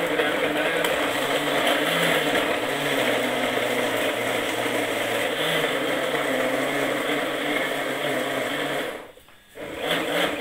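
An electric blender grinding a mixture with water for a mastitis remedy, running as a steady loud whirring drone for most of the stretch, then briefly cutting out near the end before starting again.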